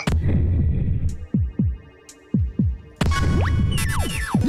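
A heartbeat effect in the dungeon-crawler game Dicey Dungeons: paired low thumps pulse in a steady lub-dub rhythm under a humming music bed, ending in brighter chiming tones and sweeping electronic notes.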